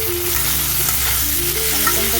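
Chopped tomatoes dropped into a pan of frying potatoes, a dense, loud, steady sizzle close up with a low background hum and no voices.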